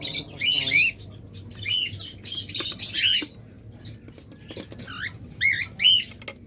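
A pair of cockatiels calling, with bursts of shrill rising and falling squawks and chirps that come in clusters with short gaps, close and fairly loud over a low background hum.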